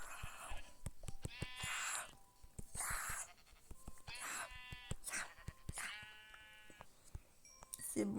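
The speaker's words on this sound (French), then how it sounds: "J'ai des moutons." Sheep bleat repeatedly in a hardcore survival video game, with several loud, wavering cries overlapping among clicks and game sounds.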